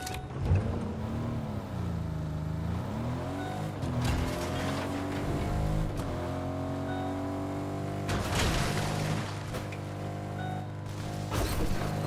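Cars driving in Fortnite during a tournament match, with engines droning and shifting pitch as they accelerate and ease off, plus a few rattling clunks and bumps over a steady mechanical hum.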